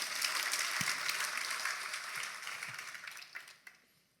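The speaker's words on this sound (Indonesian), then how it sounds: "Kita beri tepuk tangan untuk kebenaran ini" Congregation at a church sermon bursts into sustained applause, a dense wash of clapping that fades gradually toward the end, with a few scattered louder claps standing out.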